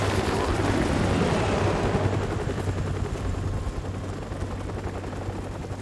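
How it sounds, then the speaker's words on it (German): Enemy helicopter rotor thumping mixed with rattling gunfire in a busy Call of Duty: Modern Warfare Remastered soundscape, loud at first and slowly fading. "Feindliche Helikopter."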